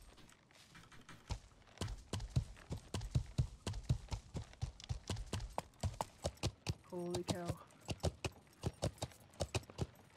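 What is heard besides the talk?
horse hooves crossing a bridge in a video game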